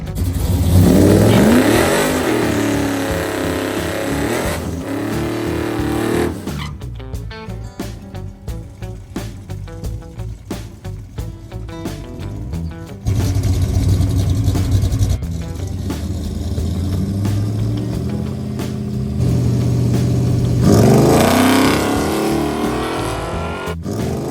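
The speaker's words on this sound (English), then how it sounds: "the car made a full quarter-mile pass under power without any major problems" A drag race car revs hard at the Edgewater strip on a quarter-mile test pass, loud and close at first, then an engine note rising and falling through gears before a second loud rev swells at the end.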